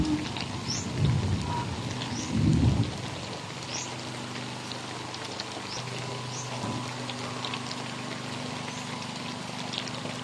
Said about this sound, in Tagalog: Pero umuulan. Naulanan na tayo.